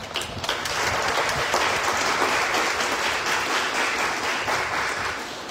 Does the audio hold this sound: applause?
yes